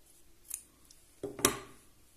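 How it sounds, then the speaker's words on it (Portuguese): Scissors snip crochet yarn in two quick, faint cuts, the second a crisper, louder snap, in an otherwise quiet room with no talking. "Vou cortar aqui."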